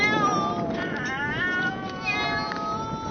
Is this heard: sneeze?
no